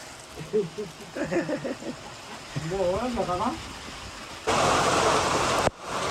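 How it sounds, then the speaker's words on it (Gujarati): Heavy rain pours onto hillsides in the Gir area, heard as a loud broadband hiss that rises late in the clip after a stretch of people talking outdoors. "કેટલો વરસાદ પડે છે જો આ ડુંગરા ઉપર"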